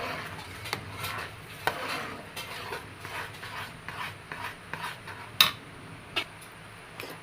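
Jackfruit batter, made with no oil or ghee, is stirred nonstop in a pan over a low flame, giving soft, close, rhythmic scraping strokes with an occasional sharper knock of the spoon.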